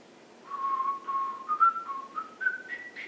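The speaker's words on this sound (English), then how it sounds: "this little whistle." A whistled jingle from a 1970s Old Spice television advertisement, a short rising melody of clear tones whistled alone and fairly close, with no talking.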